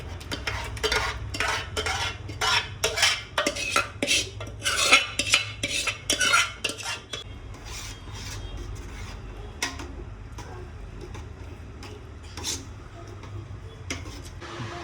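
Rapid metallic clinks and scrapes of a spoon stirring gravy into Girnari khichdi in a pot, busy at first and then thinning to occasional taps.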